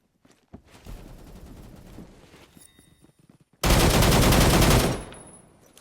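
An anti-tank rifle and other guns fire in a shooter video game. Scattered distant pops and clatter lead into one very loud, sustained roar of gunfire lasting about a second before it fades.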